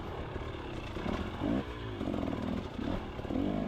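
A dirt bike engine lugs low and steady in third gear on a winter trail, its deep uneven thrum wavering without high revs, loud and close throughout.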